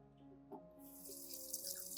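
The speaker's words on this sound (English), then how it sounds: "rinse the plant under clean running water" Tap water runs steadily over a plant being rinsed in a sink, a close, continuous splashing stream that swells after the first half-second, with no voices.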